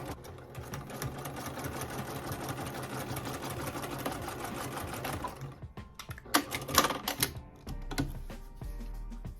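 A sewing machine runs a fast, steady stitch through African print fabric for a pouch, close and continuous, then stops and is followed by a few sharp handling clicks and rustles.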